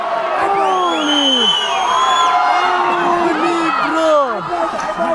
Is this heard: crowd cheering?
yes